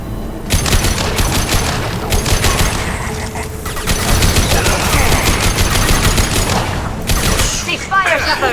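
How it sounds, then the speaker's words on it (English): Rapid automatic gunfire and bursts in the video game Mass Effect 2, aboard a disabled Collector vessel, rattle on loudly and almost without a break for the whole stretch, mixed with game voices and effects. "Cease fire, Shepard!"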